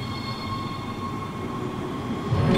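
A tram in the Dead Space video game moves along with a steady rumbling drone and a faint whine, rising slightly louder at the end.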